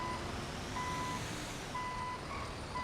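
Repeated electronic reversing beeps from a vehicle backing up in the GTA 5 video game, steady evenly spaced tones over a low engine rumble, fairly close and clear with no talking.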